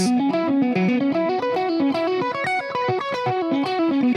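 Continuous distorted electric guitar riff with a chorus-like shimmer, playing steady repeated note patterns at a strong, even level.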